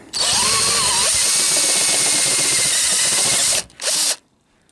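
An electric drill steps out already-drilled holes in the metal wing of a Subaru Legacy wagon, whining loudly and continuously up close for several seconds before a brief pause and one short final burst.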